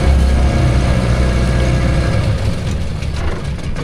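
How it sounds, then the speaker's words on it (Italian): A motorcycle engine runs at a desert river crossing in Colombia, a steady low rumble that holds loud throughout with a slight dip near the end, no talk over it. "è arrivata anche un'altra moto"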